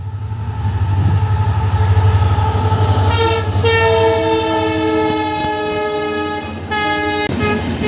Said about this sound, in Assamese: ট্ৰেইন আহি গ'ল, এয়া